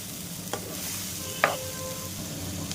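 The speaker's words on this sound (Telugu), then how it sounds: "ఇప్పుడు ఇందులో వెల్లుల్లిపాయ ముక్కలు ఇలాగా వేసేసుకోండి. వేసేసుకొని ఒకసారి వేయించేసుకోండి." Garlic and onion pieces sizzle in a pan with a steady hiss, broken by a couple of sharp stirring clinks close by.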